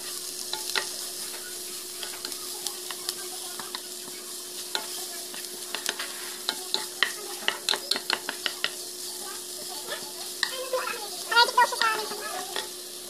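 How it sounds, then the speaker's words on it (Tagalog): Fennel and garlic sauté in a pan with a steady soft sizzle under a constant hum, broken by repeated scraping stirs and clinks of a utensil against the pan, with a busier clatter near the end. "Na-add ko na rin ang fennel and garlic dito. So, gisa-gisa na lang tayo hanggang sa maging"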